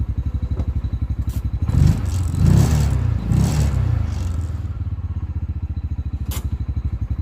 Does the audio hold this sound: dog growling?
no